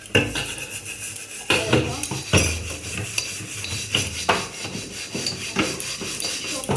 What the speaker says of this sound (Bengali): থালা বাসনগুলো মেজে নিচ্ছি।